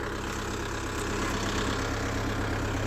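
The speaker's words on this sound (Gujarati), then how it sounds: "આજે આપણા કુબોટા દાંતીમાં હાલે છે" Low, steady drone of a Kubota tractor engine pulling a tine cultivator, running at a constant pace, close by and uninterrupted.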